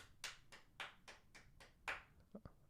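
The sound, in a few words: hand clapping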